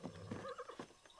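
A horse in the video game Far Cry 6 gives a short whinny with a few clip-clop hoof beats, fairly quiet and heard alone in just over a second.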